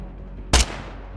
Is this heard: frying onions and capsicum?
no